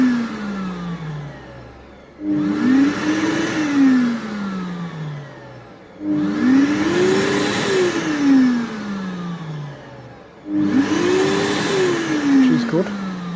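A Festool CleanTec CTL dust extractor, controlled from the power tool, spins up three times in the clip, each run a loud steady motor whine with a rising-then-falling pitch sweep at start, separated by brief dips back to a lower idle hum.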